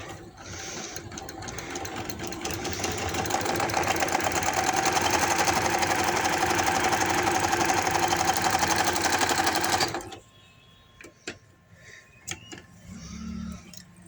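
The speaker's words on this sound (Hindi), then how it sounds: "अब हमने इसको यहाँ से लेके यहाँ तक इसकी पैर बहे की सिलाई लगानी है।" A sewing machine stitches the hem of palazzo pants, running steadily and close for about ten seconds before stopping abruptly, followed by a few faint clicks and handling noises.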